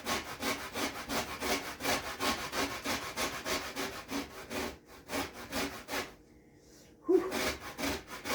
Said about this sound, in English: So I'm going to grate mine first, and then we'll squeeze it.